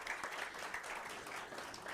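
Brief, steady applause from a small group at an opening event in Salvador, faint and somewhat distant.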